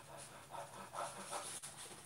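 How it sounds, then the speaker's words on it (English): A dog pants in quick, soft breathy bursts, close by and fairly quiet, with a few louder huffs in the middle and no talking. "It's a dog. Oh, it's just a dog."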